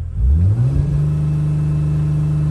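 A 2008 Dodge Sprinter van in limp mode revs up, its engine tone climbing quickly then holding at a steady, loud drone as the van accelerates, close and continuous with no talking.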